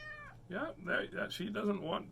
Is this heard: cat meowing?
yes